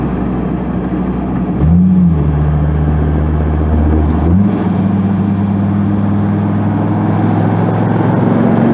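A twin-turbo Dodge Viper engine drones loudly from inside the car as it cruises in sixth gear, with two brief rises in pitch before settling into a steady, even hum.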